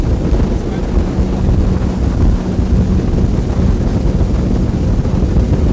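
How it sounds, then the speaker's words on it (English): A Sunseeker Hawk 38 powerboat roars along at full throttle, steady engine drone mixed with heavy wind buffeting and rushing water, loud and close throughout. "See if we can get some serious performance out of it."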